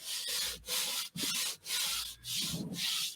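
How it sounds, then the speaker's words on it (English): Paper being burnished down onto a journal cover by hand, five or six firm, close rubbing strokes in a steady back-and-forth rhythm with short pauses between them, no talking. "realize you can burnish it down once you get it on there."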